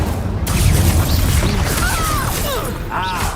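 A loud, dense fire-spell blast from the Hogwarts Legacy video game roars continuously, with crackling bursts and whooshing, whistling tones layered through it.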